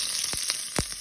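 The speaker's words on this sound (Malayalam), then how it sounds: "ഇനി നമുക്ക് അതിലേക്ക് കടുകിട്ട് കൊടുക്കാം" Mustard seeds sizzle and crackle in hot oil in a pan, a steady close hiss with a few sharp pops standing out.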